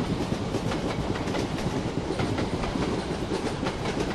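Vande Bharat train running in Trainz Simulator, a continuous dense rumble of wheels on rails with a rhythmic clickety-clack, steady and loud without pauses.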